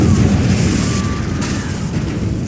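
A blasting-spell explosion in the Hogwarts Legacy video game gives a loud, broad rumbling boom that keeps roaring and slowly settles, with a faint whistling tone over it.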